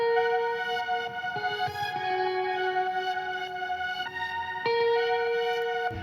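Two guitars spread wide with the Soundtoys Pan Man effect in an indie pop arrangement, playing a sustained melodic line with steady tonal notes that shift pitch every second or so, washed in effects and moderately loud with no voices.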